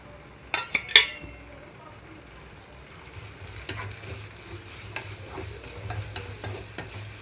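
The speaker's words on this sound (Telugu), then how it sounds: "పచ్చిమిరపకాయలు అలాగే టమాటాలు వేసి వేయించుకుంటున్నాను" Green chillies and tomatoes fry in a little oil in a pan, a steady low sizzle with a few sharp clinks of a utensil against the pan near the start and soft stirring scrapes throughout.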